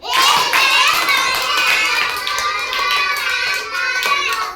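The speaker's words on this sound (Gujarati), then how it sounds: "ચાલો આપણે દસ તાળી પાડો" Young children in a pre-primary classroom clap their hands together in a run of claps while their voices chant loudly throughout, so the claps are partly buried under the group's voices.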